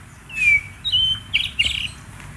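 A songbird native to Bangka sings several clear, high chirps and short whistled phrases, loud and close, with no talking.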